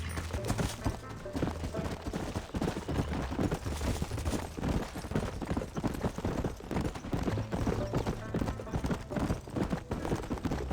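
Rapid, continuous horse hoofbeats pound in a galloping rhythm in the video game Red Dead Redemption, loud and busy, with scattered shots and commotion mixed in.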